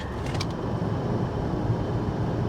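A car engine idles with a low, uneven rumble, close by and steady, with no voices.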